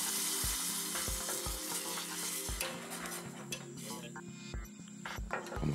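Rice is stirred in hot oil in a pot for a risotto with apple and dill, giving a steady close sizzle broken by regular scraping knocks of the spoon against the pot.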